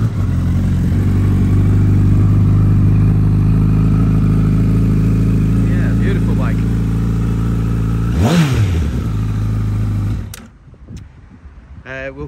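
A Honda Repsol Fireblade CBR1000 sportbike fitted with an Akrapovic exhaust runs loud and close at a steady idle, then blips briefly before being shut off with a clatter near the end.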